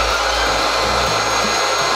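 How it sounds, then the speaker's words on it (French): Steady loud whooshing roar of an electric blower inflating an inflatable mascot during a live stream, a continuous broadband air rush with a low rumbling hum that holds unchanged for the whole stretch, with no voices over it. "Quand elle est au max, Serge se gonfle et fait son apparition dans le live."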